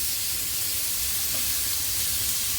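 Egyptian-style shawarma meat hits a pan of melted fat and sizzles loudly, a dense, continuous hissing spatter close up that holds steady with no talk.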